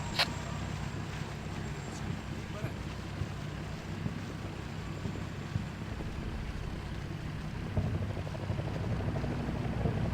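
A helicopter in a Ukraine campaign video game mission drones steadily as a low, continuous rotor and engine rumble mixed with wind-like noise, heard from some distance throughout with no talking.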